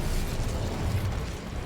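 An Incendio fire spell from Hogwarts Legacy bursts in a dense, rumbling whoosh that stays loud and continuous throughout, with crackling pops layered on top.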